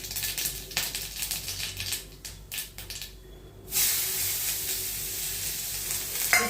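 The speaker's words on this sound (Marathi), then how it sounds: "हे सगळं मिक्स करून मी भाजी करून घेते." Beetroot, carrot, paneer and potato with ginger-garlic paste are stir-fried in a pan. A choppy sizzle broken by short stirring gaps swells into a loud, continuous hissing fry for the second half.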